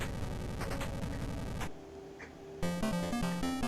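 Buzzy, square-edged chiptune tones from an Atari 7800 game console sound chip, a fast warbling arpeggio, a brief quieter gap, then a stepping melody of bright beeps.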